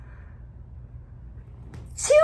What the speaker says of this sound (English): I feel like I've got to sneeze.